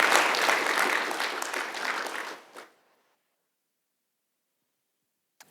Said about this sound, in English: Let's give a round of applause to all of the people that made it happen today.